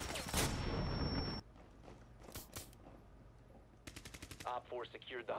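Pistol shots in Rainbow Six Siege, pistols-only match, come as a rapid burst of sharp reports at the start, then scattered clicks and mechanical handling sounds, with a voice talking near the end.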